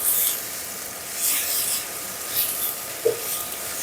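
Bean sprouts and fish cake are stir-fried in a pan, with a steady close sizzle and hiss, soft scraping swells as they are tossed, and a small clack near the end.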